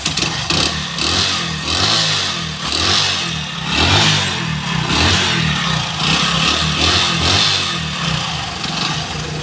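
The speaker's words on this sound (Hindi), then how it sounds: "जैसे मैं इसको स्टार्ट करता हूँ और इसका थ्रोटल लेता हूँ बाइक का" A 2019 Hero Splendor Plus i3s motorcycle with an engine sound problem revs under throttle, its engine note loud, close and continuous, rising and falling in repeated surges.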